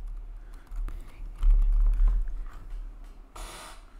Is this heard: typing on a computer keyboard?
yes